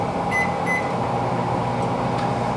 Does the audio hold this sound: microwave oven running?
yes